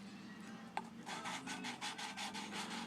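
Valve being lapped into a Toyota Corolla 1.8L cylinder head, a steady close-up scratchy rubbing that pulses in quick repeated strokes after a brief sharp tap, with no talking.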